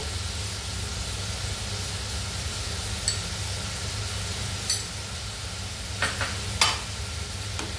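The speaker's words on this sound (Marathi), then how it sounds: "आणि आता परतून घेऊया, चांगलं परतून घेऊया जेणेकरून कांदा आणि टोमॅटो असं मऊ शिजलं पाहिजे।" Onion and tomato with salt sautéing in a pan, giving a steady low sizzle and hiss with a few brief stirring scrapes near the end, close and without talk.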